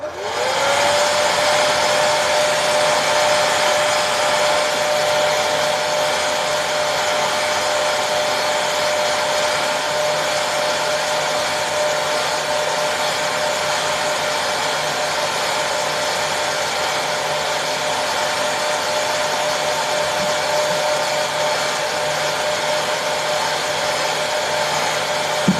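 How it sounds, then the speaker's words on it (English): Hair dryer switched on and running steadily at close range, a loud broadband whooshing blast with a fixed motor whine that holds constant without a break for over twenty-five seconds. "I'm going to use the hairdryer now"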